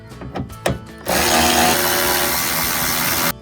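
A power tool fitted with a 10 mm socket whirs steadily for a couple of seconds, removing the taillight bolts on a Toyota Tacoma. A few short clicks and handling knocks come just before it.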